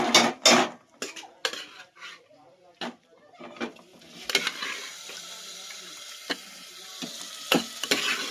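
A pan of frying masala clatters with loud metallic knocks of utensils and cookware. Chicken is then added, and a broad, steady sizzle rises and carries on under occasional scraping and stirring.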